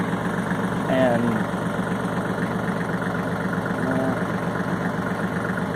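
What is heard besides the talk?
tractor engine idling while shifting gear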